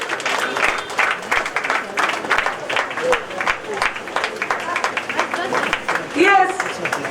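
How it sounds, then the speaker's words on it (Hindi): Scattered applause from a school audience welcoming new trustees, claps rising and falling irregularly under ongoing talk in a reverberant hall. "a loud round of applause, please"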